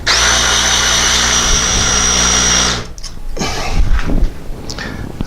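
A drill runs steadily and loudly for under three seconds while boring the bolt pattern in a steel lathe drive dog plate, then stops, leaving clattering handling and tool noises.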